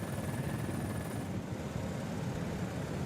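A helicopter filming a professional bicycle stage race in Austria drones steadily, a dull, even rotor and engine rumble with no talk.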